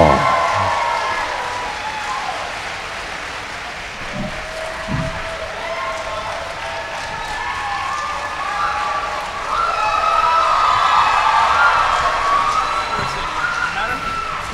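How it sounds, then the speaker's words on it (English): Audience applause after a Resident Evil 2 cast panel at SacAnime Winter 2020 fills a convention hall, steady clapping with whoops and cheers swelling toward the end, crowd voices mixed in. "Big round of applause for Nick, Jolene, and Stephanie for Resident Evil."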